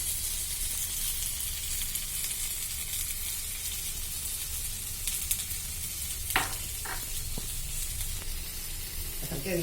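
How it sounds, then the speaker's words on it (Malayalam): Chicken fries in a little oil on a pan grill, with a loud, continuous close-up sizzle and hiss. A few faint clicks come near the end, and no one speaks. "അധികം എണ്ണയൊന്നും ഒഴിക്കില്ല പാൻ ഗ്രില്ലാണ് ചെയ്യുന്നത്"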